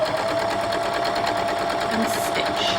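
Sewing machine chain-piecing Jacob's Ladder quilt block pieces, a steady close hum running throughout at even loudness, with a faint voice underneath.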